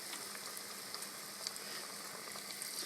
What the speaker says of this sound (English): Gonna dip it in the deep fryer